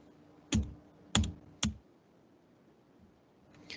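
Computer mouse clicks while dragging across an on-screen histogram: three sharp, close clicks about half a second apart, then a quieter pause and a faint final click, with no speech.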